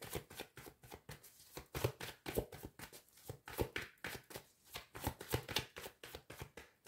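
Tarot cards shuffled and cut by hand, a quick run of crisp rhythmic flicks and slaps repeating close up, with no talking.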